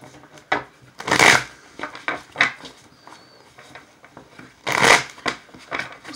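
Close, crisp riffles and soft slaps of a deck of advice cards being shuffled by hand, coming in uneven bursts with short pauses between.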